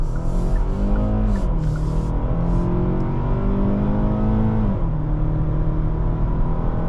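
A 2025 Hyundai Tucson's 2.5-liter four-cylinder engine pulls hard at full throttle, its strained drone climbing steadily in pitch, dipping at a shift, then climbing again, loud and close inside the cabin.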